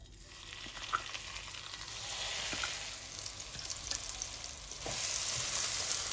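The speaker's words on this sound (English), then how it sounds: "Now we'll fry our rempah paste." Rempah chili paste frying in a little oil over medium heat, a continuous soft sizzle that builds and thickens, broken by occasional scrapes and clinks of stirring, with the hiss growing louder toward the end.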